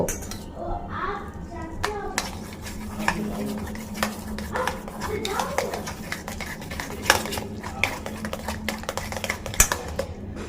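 A spoon stirs and scrapes through spiced egg-recipe ingredients with chilli and cumin powder in a bowl, an uneven run of clinks and scrapes against the dish at close range, with a few sounds like a voice in the background.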